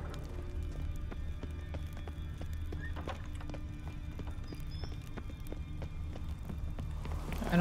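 Steady rhythmic hoofbeats of a horse clip-clopping at a quick pace over a low ambient rumble, in The Witcher 3 video game.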